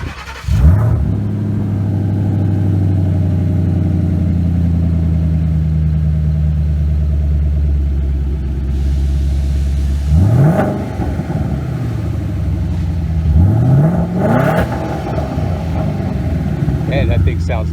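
A boosted 2005 Mustang with a swapped Coyote engine cranks and fires, settling into a loud, lumpy idle, then revs sharply twice in rising and falling bursts. A voice is heard near the start.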